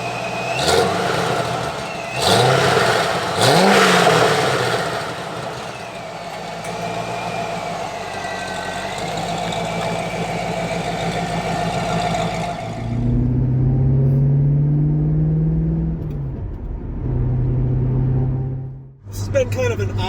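A supercharged C5 Corvette engine revs and drones while driving, loud and near, with a rising and falling pitch and a deeper rumble near the end, and someone talks over it.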